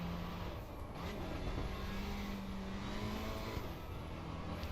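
A mid-engine sports car with a 1.6-litre four-cylinder engine in Assetto Corsa EVO drones steadily at constant revs throughout, a sustained mechanical hum with no speech over it.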